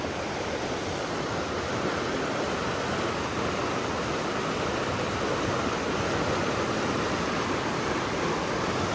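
McGee Creek near Mammoth Lakes running high with spring thaw, a steady dense rushing roar of water, moderately distant and unbroken with no voices.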